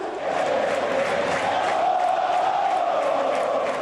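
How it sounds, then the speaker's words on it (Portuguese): A football crowd roars nonstop inside São Januário stadium, a loud, dense wall of voices that stays steady and close from start to finish. "a torcida fez de São Januário um caldeirão"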